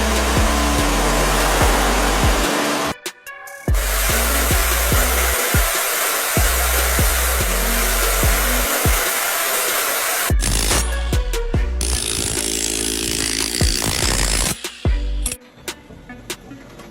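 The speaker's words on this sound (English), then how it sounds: "This powerful machine peels away the old road surface, preparing it for a fresh new layer." A road milling machine peels away an old road surface with a loud, steady roaring grind that runs almost continuously, broken by a few brief drops and shifting near the end.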